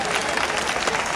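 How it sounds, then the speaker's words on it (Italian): A crowd applauds cosplay performers at the Etna Comics 2012 cosplay contest, a brief, lively burst of clapping with a murmur of voices mixed in. "Un applauso a questi ragazzi!"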